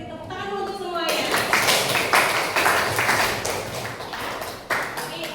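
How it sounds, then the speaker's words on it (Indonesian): Students in a chemistry class clap together for everyone, a loud, dense burst of applause following a brief voice, with scattered claps continuing toward the end. "Berarti tepuk tangan dulu untuk semuanya."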